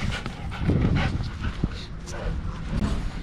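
Dogs snuffle, pant and whimper close by at a marina, with a short yip and some movement noise in the background.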